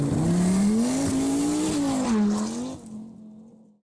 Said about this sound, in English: This is the story of the Audi Quattro rally car.